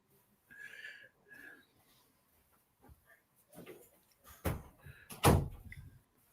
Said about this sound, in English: Let me shut this door because I got an echo